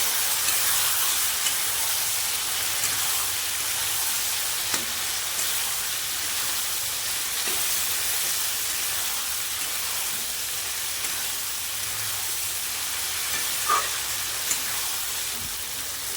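Mutton (goat meat) frying in an uncovered pot gives a steady, even sizzling hiss throughout, with faint scrapes and clicks from stirring scattered on top.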